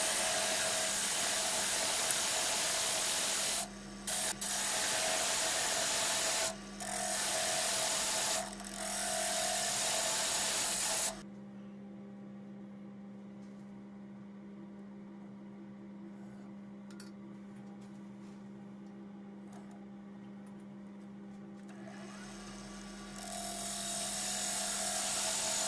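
Wood lathe spinning while a deep wooden goblet is turned, a steady loud whirring hum with a constant tone, broken by brief dips and then dropping to a quieter drone midway before rising again at the end.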